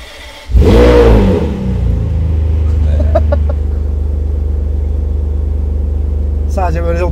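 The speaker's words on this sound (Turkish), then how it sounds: "Sonra frene basıp engine startla çalıştırıyorsunuz." A Ferrari 599 GTB engine cranks and fires with a loud burst, revs briefly, then settles into a steady, deep rumbling idle that carries on to the end, with a faint voice at the very end.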